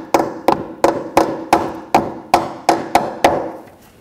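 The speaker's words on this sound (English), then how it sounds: "If you have to, you can use a little hammer," A small hammer taps push pins in with ten sharp, evenly spaced knocks about every 0.4 seconds, close and loud, with no talk.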